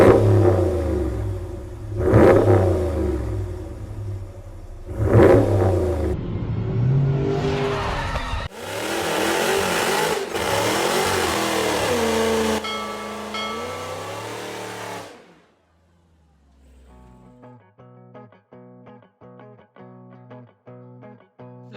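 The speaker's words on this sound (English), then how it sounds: "taking a quick look at the Corsa Extreme Exhaust Kit for the Ram 1500 with the Hemi" A Ram 1500 pickup with the 5.7 Hemi V8 and a Corsa Extreme exhaust revs hard several times, loud, deep, rumbling bursts rising and falling, then settles into a lower idle burble near the end.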